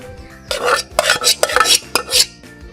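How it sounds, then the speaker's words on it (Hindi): Half a kilo of potatoes tumbles into a bowl for aloo chana chaat, making a run of close, clattering knocks and thuds in quick irregular bursts. "आधा किलो ही मैंने आलू लिए, आधा किलो आलू चले गए।"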